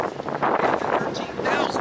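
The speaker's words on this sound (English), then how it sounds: "It's really windy." Gusty wind buffets the microphone in loud, rough bursts outdoors, with a voice speaking underneath.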